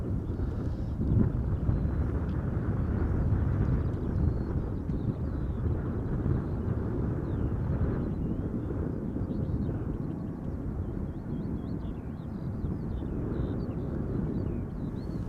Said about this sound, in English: the A320neo from SAS going to Stockholm in a few moments